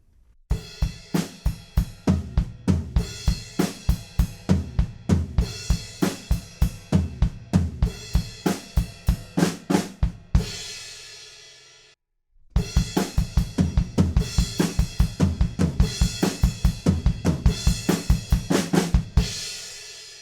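Full drum kit playing the chorus of a song with toms added, a steady driving pattern of loud, close hits with a brief gap near the twelve-second mark before the beat resumes.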